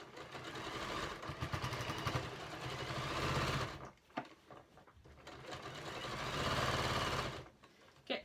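A sewing machine stitching fabric for a storage box, running in loud steady bursts, pausing briefly around the middle, then running again.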